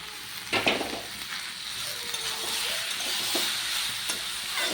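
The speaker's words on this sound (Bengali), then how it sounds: "এরকম করে ভালো করে আমি এগুলোকে কষিয়ে নেব।" Spices with dried chili powder frying in a pan while a spoon stirs them, a soft steady sizzle with a few light scraping knocks, close and quiet.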